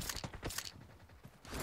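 Faint, rapid bursts of M1014 shotgun gunfire in the mobile game PUBG Mobile, several sharp cracks in quick succession followed by a quieter gap and another burst.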